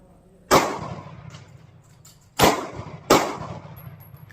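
Three sharp, loud pistol shots from a Sig Sauer P365 crack close by, unevenly spaced with short ringing decays between them and no talking.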